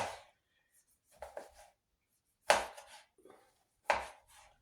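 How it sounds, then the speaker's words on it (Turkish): A knife chops tomatoes into small pieces on a board, a few sharp separate cuts, some in quick pairs, with quiet pauses between them. "Böyle küçük küçük doğruyorum bunu"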